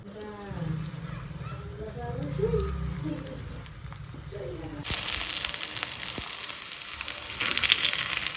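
Kachoris frying in oil in an appe pan hiss and crackle; someone talks over a softer sizzle at first, then the frying turns suddenly louder and brighter and continues steadily on its own.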